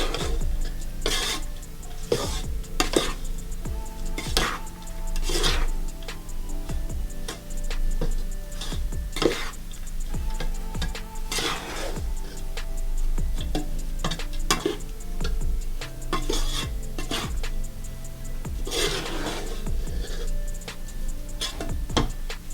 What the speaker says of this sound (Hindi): थोड़ी थोड़ी करके चीनी डालेंगे और उसको अच्छी तरह मिक्स करेंगे